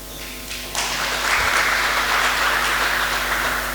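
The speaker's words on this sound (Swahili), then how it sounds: "Pia Yesu makofi." A church congregation breaks into clapping during a sermon, rising suddenly from a low hum into a sustained, loud, dense burst of many hands that holds steady to the end.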